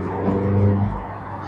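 Cars cruise slowly in a 30 zone behind a Porsche 992 Carrera T on a Sunday group drive, a low steady engine drone that swells briefly mid-clip and then eases off.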